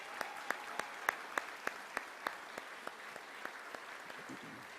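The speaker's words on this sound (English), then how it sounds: "A little round of applause for them as well." Applause for the Army Field Band at a defense employer awards ceremony, sparse, slow and evenly spaced claps ringing out sharply in a reverberant hall, fading slightly toward the end.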